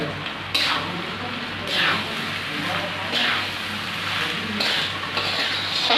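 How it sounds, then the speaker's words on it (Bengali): Polao rice frying in a wok, a steady broadband sizzle with repeated scraping stirs every second or so, close and continuous. "যতক্ষণ পোলাও ভাজা হচ্ছে ততক্ষণ আমরা অন্য কাজে মন দিই।"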